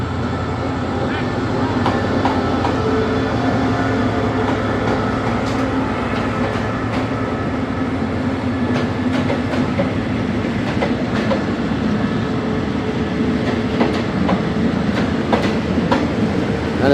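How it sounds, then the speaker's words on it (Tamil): Thai SRT train bound for Bangkok running with a loud, continuous rumble, a steady clickety-clack of wheels over rail joints and occasional metallic squeals, heard from inside the carriage. "பேங்காக் போகிற ட்ரெயின் பேர் இருக்குது பாருங்க,"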